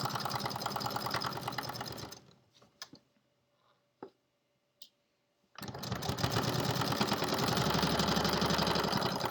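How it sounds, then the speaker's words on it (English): Sewing machine stitching a pillowcase runs loud and steady, stops for a few seconds with only a couple of faint clicks, then starts again and keeps humming through the end. "I'm keeping my hands here to guide it through my machine"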